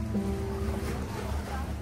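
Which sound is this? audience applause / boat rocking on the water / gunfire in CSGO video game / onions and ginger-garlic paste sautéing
boat rocking on the water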